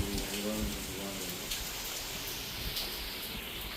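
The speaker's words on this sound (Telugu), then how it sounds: "మొత్తం వర్షం పడుతుంది" Steady rain falls on surfaces around a house garden in Khammam, a constant soft hiss of drops with occasional louder patters, fairly faint and continuous with a brief low murmur early on.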